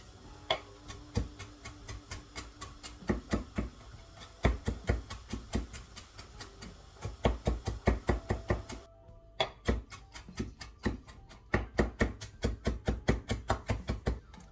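A knife chops onion for tartar sauce on a board, making steady, sharp, close knocks in quick rhythmic runs with short pauses between batches.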